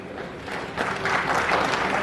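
A crowd at a political speech breaks into applause, the clapping swelling after a brief murmur and holding steady and full.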